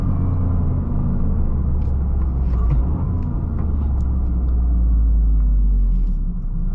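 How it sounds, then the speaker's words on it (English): A 2023 Toyota GR Corolla, an AWD rally-bred hatchback, heard from inside as its engine drones loud and low through the gears, the pitch climbing and dropping across shifts over a constant road rumble. "Car likes to go through the gears,"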